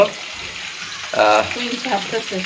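Chicken wings frying in hot oil with a steady sizzle, swelling briefly louder in the middle, with faint clinks and soft talk underneath.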